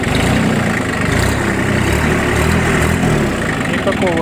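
A Hinomoto E2304 mini tractor engine idles steadily with a low, even rumble, with slight rises in pitch as it is revved gently.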